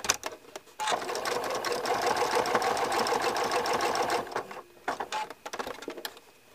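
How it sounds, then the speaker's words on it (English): A sewing machine runs a zigzag stitch around a quilted fabric cookie, a close, steady rapid chatter for several seconds, then stopping and restarting in short bursts as the needle pivots. "I do a zigzag stitch over it to get it started"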